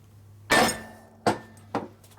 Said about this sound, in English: Now we are using a lead hammer, so you can see how the lead takes the blunt with the hit.